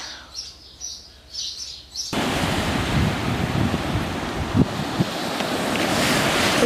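Ocean surf and gusting wind on a Maui beach: a quieter opening with a few bird chirps gives way to a loud, continuous roar of waves and wind buffeting the microphone, with no voices.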